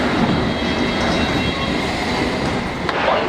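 A London Underground train pulls away at Moorgate station, a loud, close, continuous rumble and rattle of carriages with faint wheel squeal.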